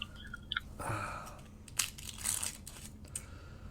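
A fortune cookie's plastic wrapper is torn open close by, with several crinkling rips and crackles spread across a few seconds in an otherwise quiet room.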